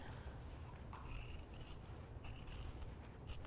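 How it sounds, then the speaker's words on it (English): Scissors trim fabric around a spiderweb-style collar in a quiet room, a series of soft, crisp snips and rasping cuts repeating at an uneven pace, with no talking. "And now I'm gonna go ahead and trim all the way around."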